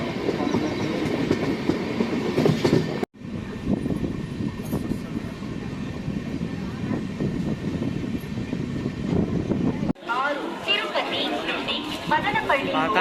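A passenger train runs on after leaving Kacheguda station, its steady rumble and rail clatter filling the carriage while people talk nearby.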